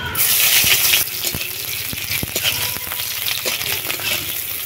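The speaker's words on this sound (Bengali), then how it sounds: "পেঁয়াজগুলো লাল লাল করে ভাজা হয়ে গেছে" Steady sizzling and crackling as chopped onions fry in mustard oil in a pan, with occasional sharp pops and clicks, a louder burst at the start settling into a constant fry.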